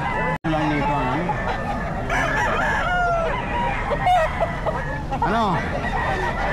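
At a busy pet market in Bocaue, a rooster crows several times among clucking fowl, fairly close, with people talking and crowd noise underneath.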